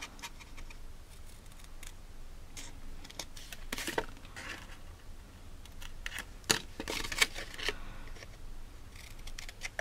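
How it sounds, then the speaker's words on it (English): Scissors cutting a paper craft box down to the score line, a close series of short, sharp snips and crunches of card with light handling noise between cuts. "Cutting down to the score line and then just cutting the little arms off."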